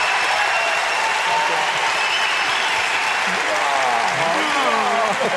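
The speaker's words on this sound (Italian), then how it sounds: "Non ti ho neanche preso e applauso." Applause from a crowd during an Italian radio dance broadcast, loud and continuous, mixed with a sustained tone and faint sweeping sounds underneath.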